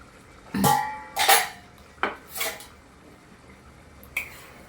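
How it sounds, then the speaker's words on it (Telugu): A metal lid comes off a cooking pot of palak paneer curry with a few light clanks and clinks close by, spaced over several seconds in a quiet kitchen. "ఇప్పుడు ఒకసారి మూత ఓపెన్ చేసి చూసుకుందాము"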